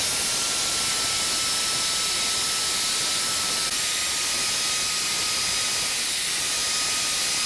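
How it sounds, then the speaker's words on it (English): Sanding a maple burl bowl on a spinning wood lathe gives a steady, loud broadband hiss with a faint high whine, continuing without a break. "I need to sand it a little bit differently"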